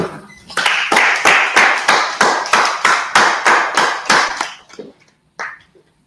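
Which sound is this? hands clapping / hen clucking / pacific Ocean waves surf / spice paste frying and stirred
hands clapping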